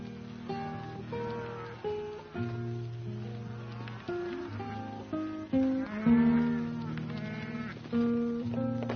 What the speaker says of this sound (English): What ranch these cattle come from, Carl?